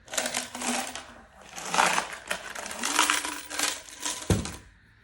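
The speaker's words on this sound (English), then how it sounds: "Let me just take a coin, and I'm gonna erase 3 of them." A coin scrapes across a scratch-off lottery ticket in repeated short rasping strokes, faint and close, in an uneven back-and-forth rhythm with a small tap near the end.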